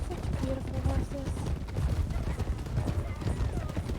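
An Appaloosa horse's hooves clip-clop in a quick, irregular rhythm amid video game sounds, with the horse whinnying and voices talking underneath.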